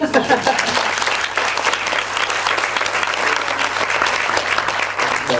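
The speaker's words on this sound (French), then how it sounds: "on peut l'applaudir" An audience at a short-film festival applauds a winning team, with steady, dense clapping that swells and stays strong throughout, some faint voices mixed in.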